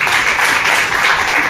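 Loud, dense applause from a kavi sammelan audience in Bhiwani greeting a poet as he takes the stage, a steady wash of many hands clapping with no gaps, close and continuous throughout.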